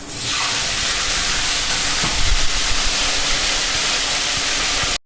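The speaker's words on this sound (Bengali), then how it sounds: "মাছের মাথাগুলো একটু ভেজে নিচ্ছি, কারণ মাছের মাথা দিয়ে আজকে চচ্চড়ি বানাবো" Fish heads fry in a pan, giving a loud, steady, close hiss that runs unbroken throughout and stops abruptly at the end.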